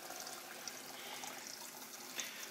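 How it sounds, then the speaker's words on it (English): Ice cold tap water runs into a cup in a quiet, steady, faint pour with a soft splashing hiss throughout and no talking. "We fill it up with some ice cold water right out of the tap."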